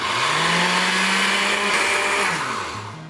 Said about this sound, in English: If you've got a really powerful blender, it'll do short work of this, no problem.